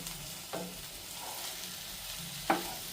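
Okra fry being stirred in a pan, a soft continuous sizzle broken by two sharp scrapes of the spoon against the pan, fairly quiet and with no one talking.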